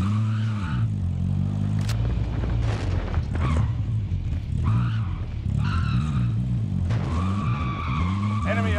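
A remote-controlled RC-XD toy car from Call of Duty whines and skids nearby, its motor pitch sweeping up and down with tire squeals and bumps over game noise.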